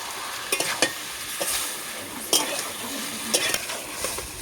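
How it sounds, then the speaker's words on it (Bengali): Boiled papaya being stir-fried in a pan, a steady sizzle with several sharp scrapes and clinks of a spatula against the pan at irregular intervals, close and moderately loud, with no talking. "পেঁপেটা কি সুন্দর কষে নিয়েছি।"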